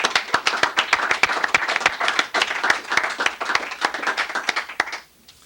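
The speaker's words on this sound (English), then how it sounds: "I think we owe Ray Lonsdale a round of applause for putting that together" An audience applauds in a 1986 local television studio, sharp individual claps standing out in a lively, moderately sized round that runs steadily and then stops abruptly near the end.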